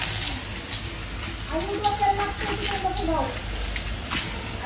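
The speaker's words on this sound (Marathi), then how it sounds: "मस्त आपण इथे तव्यामध्ये फ्राय करून घेऊ." Surmai fish pieces coated in semolina fry in a tawa pan, giving a steady, even hiss close up that runs the whole time beneath a faint background tone.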